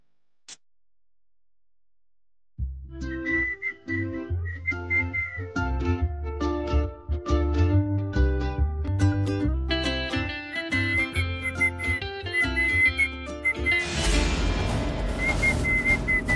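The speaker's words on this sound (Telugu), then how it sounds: "ఏంటి బావ అంత కులాసాగా, అంత ఆనందంగా, హుషారుగా ఈల వేస్తూ వస్తున్నాడు?" A person whistles a cheerful, lilting tune while walking, starting after a brief silence and continuing as a bright, steady melody that grows fuller toward the end, with no talking.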